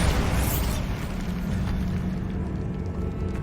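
Bombarda spell blast from Hogwarts Legacy, a dense, sustained low boom and rumble that fills the whole moment, loud and steady with no speech over it.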